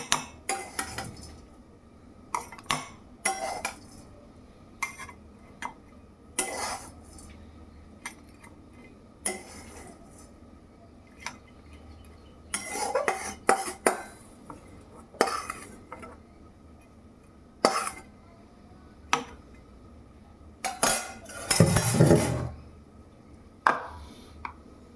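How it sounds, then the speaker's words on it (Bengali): Dried small fish being tipped into a steel mixer-grinder jar, giving a string of sharp clinks, taps and scrapes of metal and dry fish at irregular intervals, close and fairly loud against a quiet room, with a denser clatter near the end. "এই যে দেখো মিক্সি বাটিতে নিয়ে নিচ্ছি সব।"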